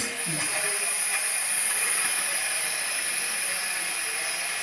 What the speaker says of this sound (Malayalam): ഇപ്പം നമ്മുടെ പുട്ടിനുണ്ടോ ആവി വന്ന് തുടങ്ങി